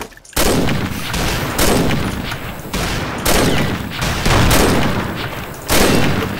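Rapid gunfire in the online shooter Combat Arms, a dense loud barrage of shots and automatic bursts with sharp repeated blasts, continuing across the whole stretch with no talk.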